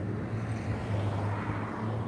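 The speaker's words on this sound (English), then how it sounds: "We got helicopters circling." Helicopters circle over the ridge of the Hollywood Hills near Mulholland Drive during a fire, a steady low droning rumble with rotor throb heard from a distance, alone without talk.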